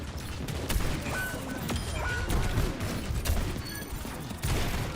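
Gunfire in a competitive shooter game comes as a dense string of sharp cracks and bursts, with clicks and pings scattered between the shots and no voices heard.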